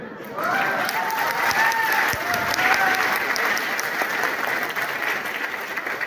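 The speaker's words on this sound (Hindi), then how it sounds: "ताली कभी भी ना मजबूरी में मत बजाया करो, मजबूती से बजाया करो" Steady applause from a seated audience at a motivational talk, dense and continuous for several seconds, with faint voices and cheers mixed into the clapping.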